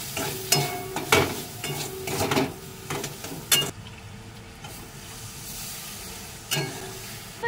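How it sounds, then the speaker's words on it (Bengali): Ground spices with coriander powder, turmeric and salt sautéing in a pan for an okra dish: busy scraping and clattering stirs over hissing sizzle at first, then a quieter, steadier simmer with one more stir near the end. "কষিয়ে নিচ্ছি মশলাটা ভালো করে"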